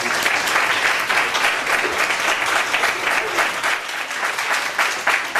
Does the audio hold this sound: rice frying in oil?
no